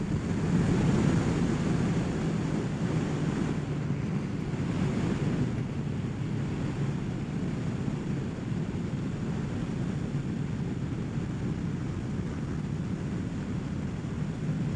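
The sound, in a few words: wind blowing on motorcycle microphone while riding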